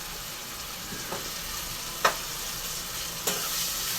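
Tomatoes cook with salt in a pan for a mutton intestine curry, a faint, soft sizzle running steadily underneath with a few brief scraping stirs of a spoon against the pan.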